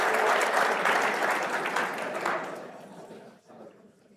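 A convention audience gives a round of applause, a dense sustained patter of many hands clapping loudly at first, then thinning and fading out toward the end.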